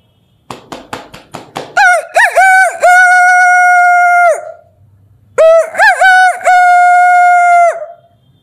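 A girl imitates a rooster crowing with her voice, two loud, drawn-out cock-a-doodle-doo calls separated by a short pause, preceded by a few sharp clicking sounds.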